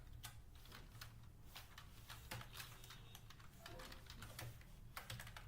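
Typing on a computer keyboard, quick, close, irregular clicks and key presses continuing steadily, faint and alone.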